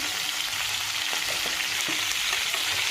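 Cauliflower fries with salt and turmeric in a pan, a constant close sizzle with occasional soft scrapes of stirring underneath, no voices.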